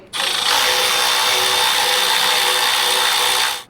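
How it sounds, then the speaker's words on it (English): On a 1997 Jeep TJ, a ratchet loosens a bolt, a fast continuous clicking whir, loud and close, running unbroken for about three seconds. "I'm using the heck out of this new ratchet"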